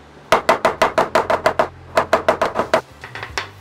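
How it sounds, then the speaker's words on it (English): Sharp, close hammer blows peening a wooden timber-frame tenon for a hand-tool sawhorse build, a quick even run of about ten strikes, a short pause, then a second run tapering softer at the end. "I want to make sure that I'm peening the full tenon too."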